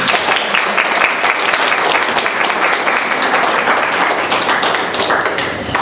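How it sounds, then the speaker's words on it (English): An audience at an International Women's Day event claps in a big round of applause, loud, dense and close, continuing steadily and easing slightly near the end. "Another big round of applause"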